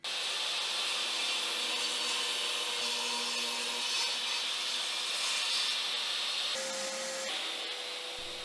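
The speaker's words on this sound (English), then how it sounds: "Cutting the material for the horizontal span of the apron is a nice, simple 90-degree cut across the board and then a rip to the proper width." A power saw rips a wooden board to width for a dining table apron, a loud, steady high whine held for several seconds, then shifting pitch near the end as the cut finishes.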